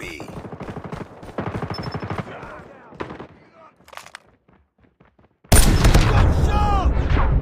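Gunfire in the Call of Duty Mobile video game, heard as a loud, dense burst of automatic shots near the end after quieter stretches of game voice callouts and scattered mechanical clicks.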